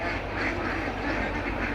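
Ducks on a farm with fish ponds and pigeons quack in a close, loud cluster, a brief overlapping burst of calls.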